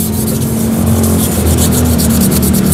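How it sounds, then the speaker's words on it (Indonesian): Sandpaper rubbed across a moldy car side mirror on a Mitsubishi Lancer, a close, continuous gritty scraping with fast repeated strokes and a steady low hum beneath. "Coba kita amplas."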